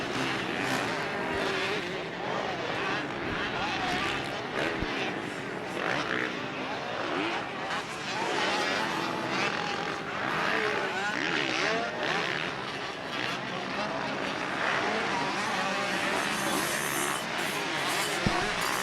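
125cc two-stroke motocross bikes racing at a 2014 California Gold Cup event, a continuous dense roar of several engines buzzing and rising and falling together, loud and sustained throughout.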